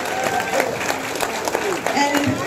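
Audience applause at an elementary school music concert held in a library, a moderate, somewhat distant patter of clapping with scattered crowd noise throughout.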